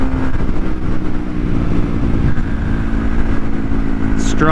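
A Honda Grom motorcycle at top speed, roughly 65 mph, gives a loud continuous engine drone with steady wind roar, close and unbroken throughout.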